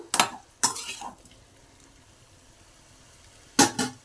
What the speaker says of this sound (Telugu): ఇప్పుడు వీటిల్ని ఫ్రై చేసుకుందాం